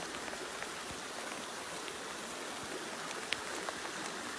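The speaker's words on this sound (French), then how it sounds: "ça va faire 1 heure qu'il pleut" Steady rain on a hot summer day, a dense even hiss of drops striking surfaces with a few sharper nearby drips, close and continuous, with no voices.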